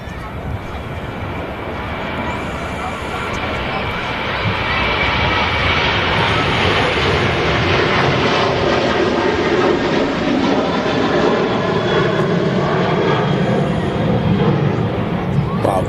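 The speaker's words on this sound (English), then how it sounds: "Ryanair 737-800 series aircraft now rolling. Ready for takeoff." A Ryanair Boeing 737-800 rolls for takeoff at Manchester Airport, a broad, steady jet roar swelling after a few seconds and holding loud and continuous, with a commentator's voice over it.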